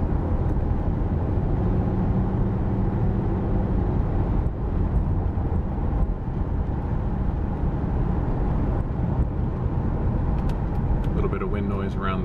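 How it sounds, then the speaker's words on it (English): Inside a 1996 Mercedes SL600 with the soft top up and no hard top fitted, a steady broadband roar of wind and road rumble fills the cabin at constant strength, with a faint whistle near the end. "A little bit of wind noise around the top."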